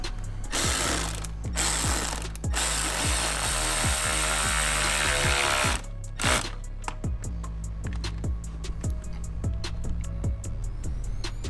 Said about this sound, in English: We put the hose to the brass bar, but we need to attach the hose clamp to that.